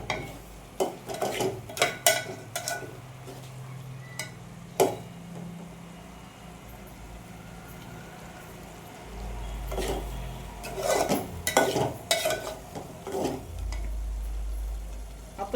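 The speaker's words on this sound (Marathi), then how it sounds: "मटकी छान परतवून घ्यायची." Sprouted matki moth beans sautéed in a pan for Kolhapuri misal, with scraping stirs and clinks of a spoon against the pot over a soft sizzle, in irregular bursts, with a low rumble at times.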